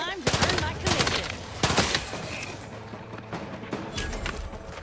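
Player's gun firing in The Outer Worlds 2, several loud close shots and short bursts in quick succession early on, then thinner scattered fire over game ambience.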